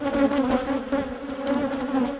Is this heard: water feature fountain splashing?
no